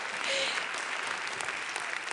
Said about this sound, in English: yes, you can applaud them